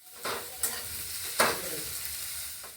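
Onion frying and stirred in a pan, a steady broadband sizzle with a few sharper scrapes of the spoon against the pan, close and fairly loud, no talking.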